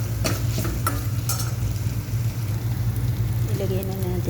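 Garlic and grated ginger fry in hot oil in a cooking pot, a steady loud sizzle throughout with a few sharp scraping stirs of a utensil.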